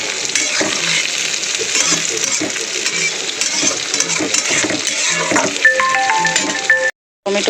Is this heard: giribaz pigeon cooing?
no